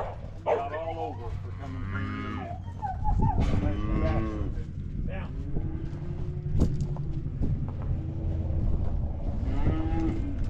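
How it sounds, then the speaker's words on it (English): Cattle low repeatedly at close range while a young Border Collie herds them, with a few barks mixed in and someone talking throughout. "you can see how much better Rhonda is getting at taking the commands and working the cattle"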